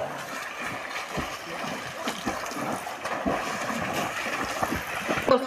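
People playing in water outdoors, with irregular splashes and sloshing bursts continuing through the whole stretch over a steady watery background, fairly close.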